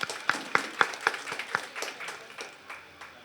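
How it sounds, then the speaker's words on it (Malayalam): At an honours ceremony in Thiruvananthapuram, a small audience gives a short burst of distinct claps that thins and fades to scattered hand claps. "ദേശീയ ചെയർമാൻ ഡോക്ടർ ബാലേന്ദ്ര സാറിന് നല്ലൊരു കയ്യടി നൽകി ആദരവോടുകൂടി നമുക്ക് ഈ ആശംസ തുടരാം എന്നറിയിക്കുക."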